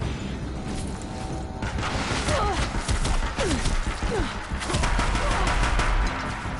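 Gunfire in the video game Horizon Zero Dawn, a dense, continuous stretch of rapid shots and impacts layered over a busy game mix, steady and loud throughout.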